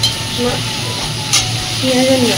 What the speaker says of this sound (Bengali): চলো মাংসটা আস্তে আস্তে পেঁয়াজ দিয়ে ফ্রাই করতে থাকুক